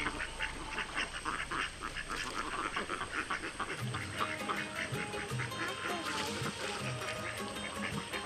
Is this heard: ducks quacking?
yes